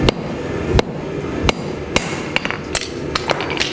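Sharp, ringing hammer blows strike hot mild steel being drawn out into a wide 8 mm falchion blade, about a dozen impacts at an uneven pace that quickens toward the end, close and loud with no talk.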